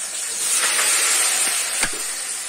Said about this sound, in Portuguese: agora a mãe vai colocar pra fritar